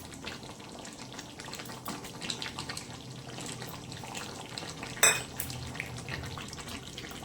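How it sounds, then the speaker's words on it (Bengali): Aloo dum, a potato curry, has its gravy boiling in a pan, giving a steady, soft bubbling hiss. A single sharp utensil clink sounds partway through, and nobody speaks. "ঝোলে ফুট ধরে গেছে"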